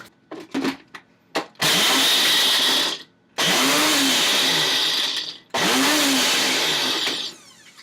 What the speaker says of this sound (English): Crush them up.